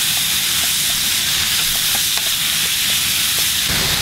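Pork stir-frying in a hot pan, a loud, close, unbroken hiss of sizzling with faint scraping ticks from stirring throughout.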